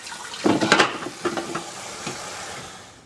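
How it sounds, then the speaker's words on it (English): Freshly harvested cabbage leaves are rinsed under running water, giving a few close bursts of splashing and rushing water early on that thin out into fainter trickles and fade away. "And we're going to rinse it off real good."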